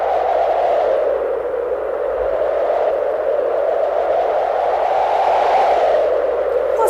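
Strong gusting wind, a continuous loud howl that swells and eases in slow waves without a break, with no voices over it.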